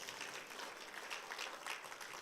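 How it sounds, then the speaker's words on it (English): Applause from a seminar audience at an Atomy business talk, a steady, dense wash of many hands clapping that holds at an even level for the whole stretch with no voices over it. "You need to give a round of applause for this."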